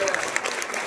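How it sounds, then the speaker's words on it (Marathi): Applause for the school peon at a village school children's poetry gathering in Chalakwadi, a dense, steady clatter of many hands from the seated crowd, filling the short moment without pause. "या शिपायाच्या कष्टासाठी, घामासाठी आपण सर्वजण एकदा टाळ्या देऊया"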